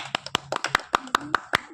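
An audience claps in quick, uneven bursts at a local ball-in-bottle prize game, a series of sharp nearby hand claps mixed with some talking.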